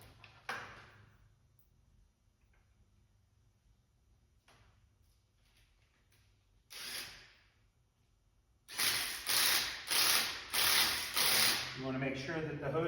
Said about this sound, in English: And then tighten down the hose clamp for the last time.